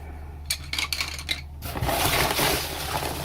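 Rattling and clinking of small hard objects being handled, followed by a rustling, scraping rush of packaging.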